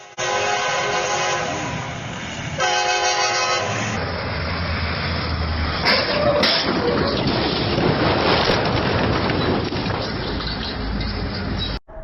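A train rolls past a level crossing, its horn sounding loud in long repeated blasts at the start, then heavy rumbling and clattering of wagons continuing steadily without voices.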